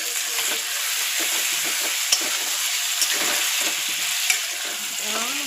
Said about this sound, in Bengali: ভাজতে দিব লবণ দিয়া